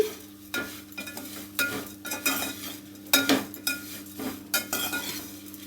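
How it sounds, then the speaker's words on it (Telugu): Two cups of flattened rice (poha) are roasted in the same pan for payasam, a soft rustling sizzle punctuated by repeated scrapes and clinks of a spoon against the pan, close and quiet, with no speech. "అటుకుల్ని ద్వారగా వేయించుకోవాలి"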